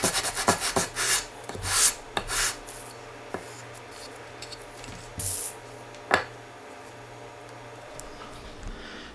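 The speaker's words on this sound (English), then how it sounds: "after sanding with 80 grit for a little bit" Bursts of 80-grit sandpaper rubbing over a wooden cutting board, rasping in short uneven strokes with pauses between them, close and fairly quiet over a low steady hum.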